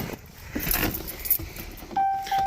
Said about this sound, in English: Let's grab the keys to the truck and then we'll move it to the garage.